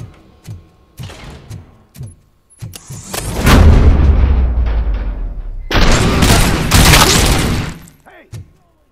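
Gunfire and heavy blasts in the video game Robocop Rogue City, a series of sharp shots followed by long loud booming bursts of fire, close and intense.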